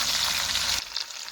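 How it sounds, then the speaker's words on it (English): Beef tallow sizzles and spits in a pan for a home beef roast, a dense steady crackle that drops abruptly to a quieter, sparser fizz partway through; no voices. "the sizzling has kind of died down a little bit"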